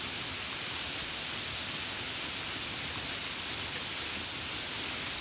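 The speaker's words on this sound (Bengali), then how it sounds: "আমি অল্প বাইরে দাঁড়িয়ে বৃষ্টি দেখব।" Rain falling in an animated cartoon scene, a steady, even wash of broadband hiss with no distinct drops, moderately quiet and unbroken throughout.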